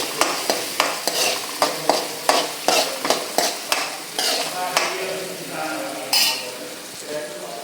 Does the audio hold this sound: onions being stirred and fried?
yes